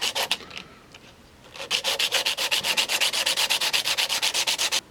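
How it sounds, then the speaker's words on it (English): A guitar part is worked by hand on a strip of belt sander paper. Short strokes come first, then a quick, even run of close, loud rasping strokes. "So we just keep sanding that down until I can slide that in there."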